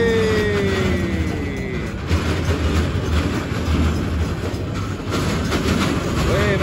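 An amusement park train rumbles past steadily at close range with rhythmic clacking and a high metallic squeal, loud throughout with no talking.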